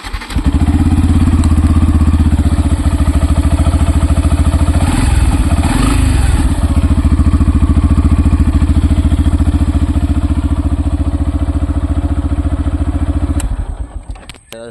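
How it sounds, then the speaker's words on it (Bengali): A Yamaha FZS V3 motorcycle idles steadily in neutral, its exhaust note a close, loud, even throb that holds for most of the stretch before fading out at the end. "তো এই বাইকটার এক্সস্ট নোটটা একবার শোনো।"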